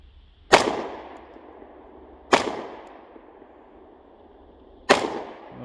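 Three sharp, loud pistol shots from a SCCY CPX2 Gen3 or Ruger LC9s Pro firing Winchester ammunition, spaced about two seconds apart outdoors, each with a short decaying tail and no talking.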